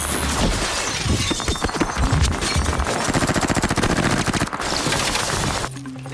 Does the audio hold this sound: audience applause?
no